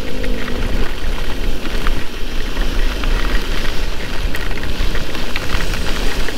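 Heavy rain roars steadily and loudly as an electric motorbike travels through the town of Cianjur, with a dense wash of spray and wind noise and passing traffic blending in underneath.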